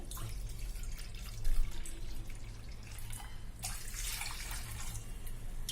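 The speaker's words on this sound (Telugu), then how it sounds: "రెండు కప్పులు వాటర్ వేసాను" Water pours steadily into a pan with a continuous splashing rush, swelling louder toward the end, over a low background hum; two cups of water are added for cooking semolina.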